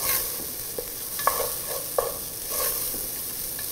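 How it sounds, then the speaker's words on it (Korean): Rice grains stir-fried in a pot to start rice porridge, a soft continuous sizzle broken by several distinct scraping and tapping strokes of a spoon, close and fairly quiet, with no talking. "얘를 갖다가 볶아서 어느 정도 쌀알이 투명하게 볶아졌으면은"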